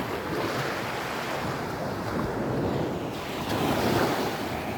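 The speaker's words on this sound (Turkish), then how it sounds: "kıvılcım dalga sesinden pek hoşlanmıyor" Sea waves washing onto a clean beach on a fine day, a steady close roar of surf mixed with wind buffeting the microphone and a swell in loudness near the end.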